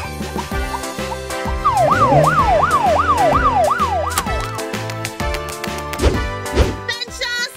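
A fire engine siren wails in a fast rising and falling sweep, loud and close, over a busy backdrop of thumps, clatter and music-like hits.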